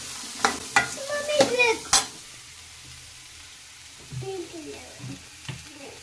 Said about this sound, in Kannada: ಕರಿಬೇವಿನ ಸೊಪ್ಪು ಕೊತ್ತಂಬರಿ ಸೊಪ್ಪು ಸ್ವಲ್ಪ ಚೆನ್ನಾಗಿ ಫ್ರೈ ಆಗಬೇಕು